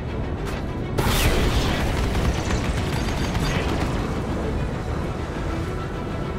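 Missile explosions in a Star Citizen space dogfight, a sharp burst followed by continuous dense rumbling and mechanical roar from the ship, loud and sustained.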